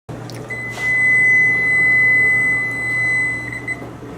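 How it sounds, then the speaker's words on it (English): Kitchen cooking appliance beeps as a pizza finishes: a single sustained electronic tone rings for about three seconds over a low hum, close and clear. "That is the sound of a finished pizza."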